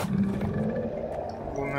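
A Boomer zombie in Back 4 Blood lets out a guttural, growling roar, loud and close at the start and fading into game noise, with voices heard alongside.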